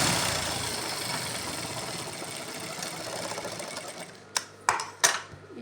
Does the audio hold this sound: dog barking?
no